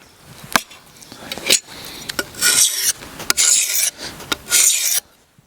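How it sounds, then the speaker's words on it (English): Varnish being scraped off a budget axe's wooden handle makes a series of rasping, scratchy strokes. The strokes are close and irregular, with short pauses between them, and some are longer and louder than others. "to scrape off that varnish"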